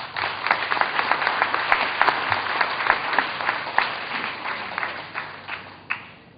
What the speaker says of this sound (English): It deserves a big round of applause.